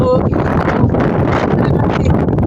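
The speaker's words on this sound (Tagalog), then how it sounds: "lakas ng hangin" Strong wind at Salag waterfall in Balingoan, Misamis Oriental, Philippines, buffets the microphone in rough, roaring gusts, a constant rumbling blast with a few muffled knocks underneath.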